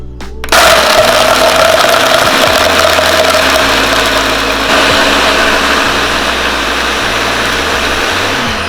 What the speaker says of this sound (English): pulse or blend until it's very smooth, which usually takes about 10 seconds